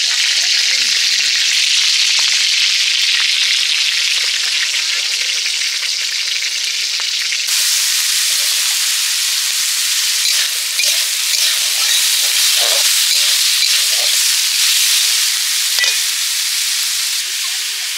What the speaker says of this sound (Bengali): মাছের মাথা ভেজে নিয়েছি, আর সবজিটাও ভেজে নিচ্ছি।